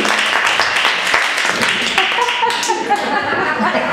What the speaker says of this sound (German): Applaus für Sophia, mein Assistent.